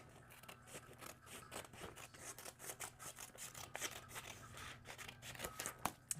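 Scissors snipping paper for a junk journal, a series of quiet, irregular close cuts and soft paper rustling with no talking.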